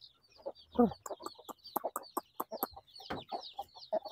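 Basilan native chickens cluck with chicks peeping among them, a close, busy run of short clucks and cheeps at varied pitch, one fuller call rising near the middle.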